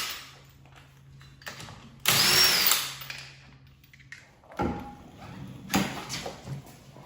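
A power tool with a 21 mm socket whirs in a brief loud burst while loosening a wheel on a Fiat 124 Spider Abarth, followed by quieter clanks and handling noises in a garage.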